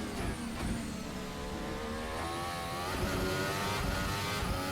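A Formula 1 car in a racing video game at Baku screams at high revs, a continuous near engine whine rising and shifting pitch throughout.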